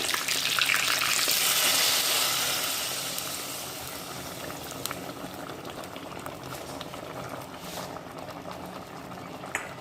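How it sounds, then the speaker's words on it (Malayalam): Stingray fish curry bubbles at a steady boil in a pot, seasoned with curry leaves and dried red chillies, a dense hiss and crackle that is loudest early and then settles to a softer simmer, with no talking. "നമ്മുടെ കറി ഇവിടെ കിടന്ന് നന്നായിട്ട് തിളയ്ക്കുന്നുണ്ട്."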